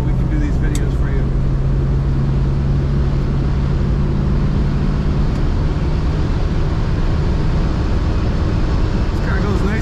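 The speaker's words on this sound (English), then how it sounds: "I'm getting a little wind noise as it is a convertible" Constant roaring wind and road rumble fill the cabin of a moving 1966 Chevrolet Corvette convertible with the top down, steady and loud from start to finish.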